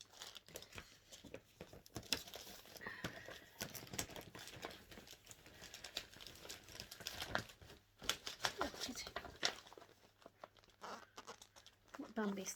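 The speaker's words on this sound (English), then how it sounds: "Try not make too much noise rustling." Crinkly packaging rustles close by in uneven bursts of crackling and scrunching, fairly quiet, with someone talking softly in between.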